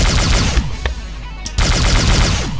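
Heavy automatic weapon in the Doom mod Project Brutality, fired with both triggers at once, gives dense rapid bursts of loud gunfire with a brief gap near the middle before the barrage resumes.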